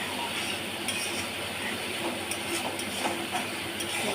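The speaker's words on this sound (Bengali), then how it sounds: "মশলাটা ভালো করে কষে নেব, আস্তে আস্তে জলটা শুকিয়ে তেলটা ছাড়ছে" Masala frying in oil in a home kitchen, a steady broadband sizzle and hiss with faint stirring scrapes, continuous and fairly close, no voices.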